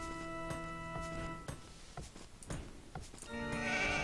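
Sheep bleat in the real-time strategy game Age of Empires II HD, with several drawn-out, wavering bleats over steady game ambience and sharp interface ticks, fairly close and clear with no talking.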